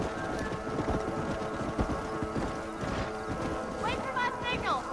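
Horses galloping in the Red Dead Redemption video game, a dense continuous clatter of hooves under game music and ambience, with a horse whinnying near the end.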